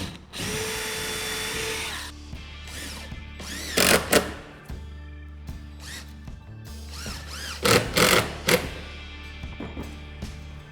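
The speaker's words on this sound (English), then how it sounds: "I'm going to put 4 screws, and that should be plenty. I'm going to put a pilot hole first here." A power drill runs into pressure-treated lumber for a railing bar top, first a long steady whir, then two clusters of short, loud bursts as screws are driven, heard close by with no talking.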